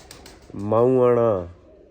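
A single pigeon coo, a soft rounded call swelling and fading over about a second, close and clear against a quiet background.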